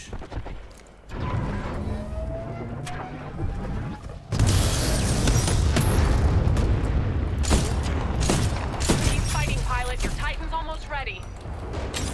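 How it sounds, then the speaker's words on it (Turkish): In the video game Titanfall 2, a special grenade bursts into a loud, sustained roar of booms and crackling that follows a quieter stretch of gunfire, with a player talking over it. "Ha, özel bir bomba atmış."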